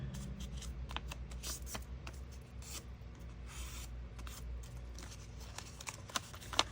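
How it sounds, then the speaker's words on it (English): Card paper being folded diagonally by hand for a graduation cap card, with soft close rustling and creasing swipes in irregular bursts, low and quiet, with nobody speaking. "And then open it up and fold it again, diagonal to diagonal."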